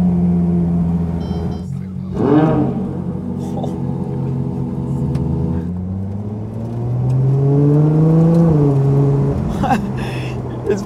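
Ferrari Monza SP2 open-top V12 driving on a sunny day, engine rumbling and revving through gear changes with rising and falling pitch sweeps, wind noise throughout, close and fairly loud.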